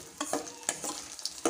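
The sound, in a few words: edible gum (dink) frying in ghee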